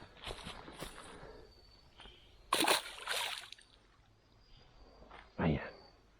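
A bass released into creek water makes two short splashes, one in the middle and one near the end, over faint outdoor background with insects.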